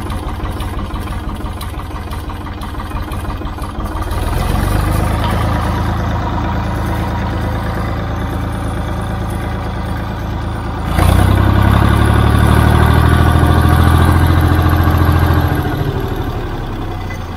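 A Ford 3000 tractor engine idles steadily with a Lucas C40 dynamo being tested, then revs up twice, the second rise louder and sustained for several seconds before easing back; close and alone.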